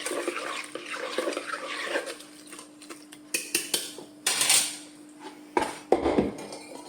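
Pineapple wine strained through a sieve into a steel pot: liquid trickles and pours in bursts, with clinks and scrapes of metal on metal, close by and uneven, with no one speaking.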